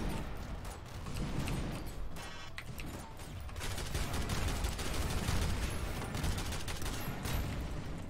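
Rapid automatic gunfire from an engineer's turret in the shooter game SYNTHETIK rattles in dense, continuous bursts, fairly faint and steady throughout the clip with no talking over it.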